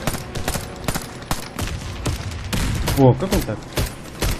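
Rapid gunfire from a competitive Counter-Strike match on the Mirage map, several sharp shots in quick bursts mixed with game sounds, with players talking over the action.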